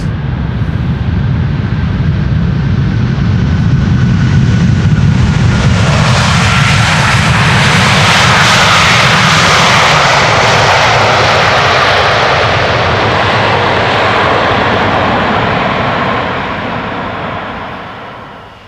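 Airliner arriving from Nairobi landing on the Polderbaan runway 18R at Amsterdam Schiphol, a loud, close engine roar that swells as it passes overhead and then fades away.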